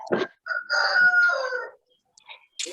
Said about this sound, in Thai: โอ้มีเสียงไก่ขันด้วย